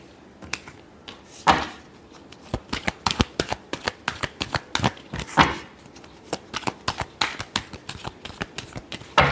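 A tarot deck is shuffled by hand in a series of quick, crisp riffling bursts with rhythmic slaps, close and fairly soft, with no voice.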